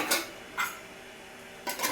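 Metal idli maker plates clatter into place in a home kitchen, three sharp clinks spaced out over a couple of seconds with quiet between them.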